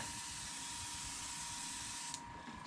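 A spray gun lays a light dust coat of paint on the hood of a 1970 Chevelle SS 454, a steady close hiss that runs throughout and stops briefly near the end.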